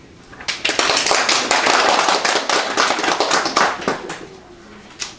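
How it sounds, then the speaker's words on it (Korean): Congregation applause during a church sermon, a dense burst of many hands clapping at full strength that gradually thins and fades out toward the end, with a brief faint voice near the close. "박수."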